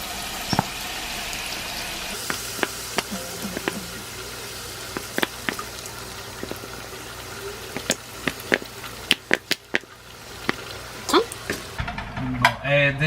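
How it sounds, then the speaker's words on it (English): Minced garlic sautés in a pan for honey grilled salmon, giving a steady soft sizzle with repeated sharp clinks and scrapes of stirring utensils against the pan, moderately close, with no talk. "We're gonna add this, the minced garlic. That saute and a little bit of lemon juice."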